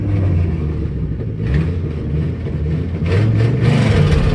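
A manual-transmission car's engine revving hard in low gear before the clutch is dumped for a burnout, a loud sustained rumble with the pitch swelling and falling in a couple of throttle blips.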